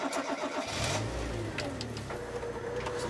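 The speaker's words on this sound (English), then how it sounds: "Let's see how I start the car again." A manual transmission car's engine starts with a low rumble that rises out of a faint, quiet background and then settles into a steady idle.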